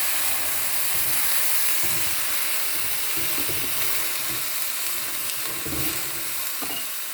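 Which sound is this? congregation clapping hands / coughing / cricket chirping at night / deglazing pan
deglazing pan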